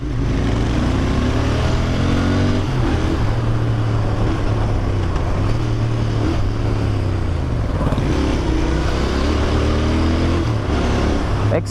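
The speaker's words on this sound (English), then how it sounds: "The entire bike speaks to you when it actually growls and launches." A Royal Enfield Interceptor 650 motorcycle engine revs hard and accelerates continuously, a loud, close, throaty roar rising and falling through several gear pulls.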